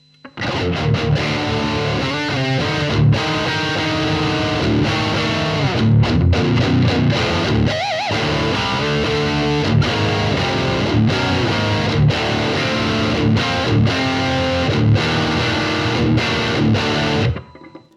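A heavily distorted electric guitar through a Marshall reissue distortion pedal plays loud, gritty riffs and chords close up, with sustained crunchy tone and a few sharp pauses between phrases.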